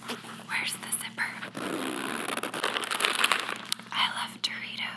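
A crinkly bag of Cool Ranch Doritos is handled up close, giving continuous rustling and crumpling crackle in an ASMR setting, with soft whispering throughout.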